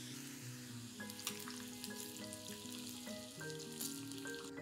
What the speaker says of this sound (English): Let's add these in the oil.